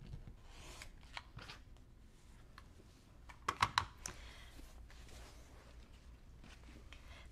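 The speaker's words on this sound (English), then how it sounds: "let's see if I cut right there" Scissors cutting quilting fabric, faint and close, with soft snips through the clip and a brief cluster of sharper crisp cuts in the middle over quiet room noise.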